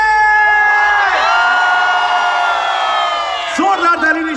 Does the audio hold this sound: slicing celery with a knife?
no